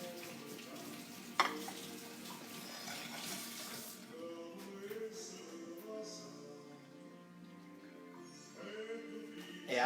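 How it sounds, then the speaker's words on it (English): Running tap water splashes steadily while hands are washed at a kitchen sink, a soft continuous hiss and patter with a clunk or two, fairly quiet. "let me wash my hand"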